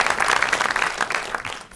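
Audience applause fills a comedy stage show, a dense, steady burst of clapping from a live crowd that holds strong throughout before easing slightly at the end.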